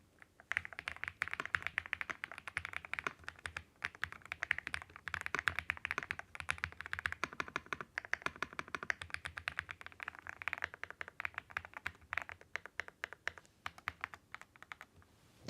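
Rapid, continuous typing on a computer keyboard, close and fairly quiet, a steady patter of key clicks with no voices.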